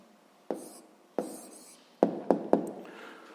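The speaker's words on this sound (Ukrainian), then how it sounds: "Пишемо відповідь." Pen strokes writing out a maths answer on paper, a faint scratchy background broken by five sharp taps and short scribbles, close and quiet with no talking.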